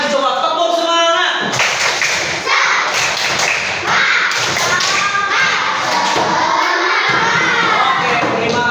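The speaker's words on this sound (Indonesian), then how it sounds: "Satu kali lagi coba, tepuk semangat." Schoolchildren in a classroom perform a spirited rhythmic clap, loud and close, with bursts of patterned clapping and thumps mixed with children's shouting voices.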